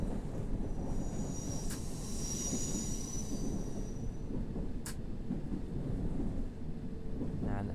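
A London Underground train in the World of Subways 3 simulator runs with a steady low rumble of wheels on track, while a high squeal and a couple of sharp clanks rise over the noise.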